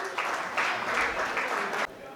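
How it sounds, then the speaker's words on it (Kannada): Audience applause at a tenth-anniversary closing ceremony, a short burst of steady clapping that cuts off abruptly, with no voices over it. "ಚಪ್ಪಾಳೆಗಳು ಬರಲಿ"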